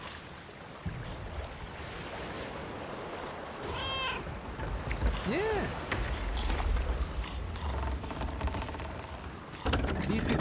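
Cats in the Sea of Thieves video game meow and snarl in a couple of rising, wavering cries midway, over steady ocean and ship ambience with a voice talking briefly.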